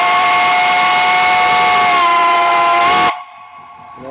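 A loud, sustained steam whistle shrieks steadily with breathy hiss for about three seconds, then cuts off abruptly, leaving a quiet hiss.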